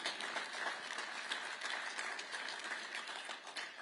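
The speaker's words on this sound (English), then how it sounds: "You can clap for that." A crowd at an Iowa political summit on renewable fuels breaks into brief applause, a dense, fairly distant wash of clapping that sounds like a roomful of hands.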